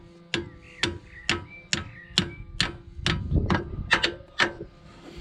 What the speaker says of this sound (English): That's what you're going to need a hammer for